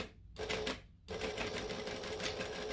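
A sewing machine backstitching fabric, running in a rapid mechanical stitching whir with two short pauses before running steadily again, close and clear with no talking.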